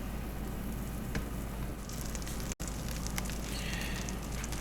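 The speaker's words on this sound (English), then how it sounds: "We're going to use a whole stick of butter. Get that melted down real good." A whole stick of butter melts in a hot pan, giving a steady, close hiss and crackle of sizzling fat that runs the whole time with one brief dropout midway, and nobody talks.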